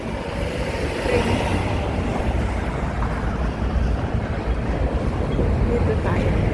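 Train rolling along an elevated track in Yuen Long, Hong Kong, a steady broad rumble heard from below amid street ambience, moderately loud and continuous, with people talking nearby.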